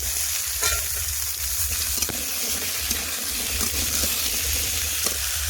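Chopped taro dropped into onions already frying in oil, a loud, steady close sizzle that holds for several seconds with a few stirring scrapes and no talk.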